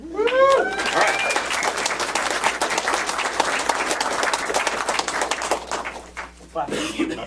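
Applause from an audience at a World of Commodore 2019 anniversary gathering: a dense, steady wash of many hands clapping, with a few voices briefly heard at the start and near the end.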